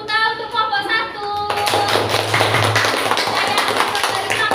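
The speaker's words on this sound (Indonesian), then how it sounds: "tepuk tangan untuk kelompok 1" Classroom students clapping for a group, a sustained round of brisk hand claps that starts after a brief lead-in and continues under a teacher's voice.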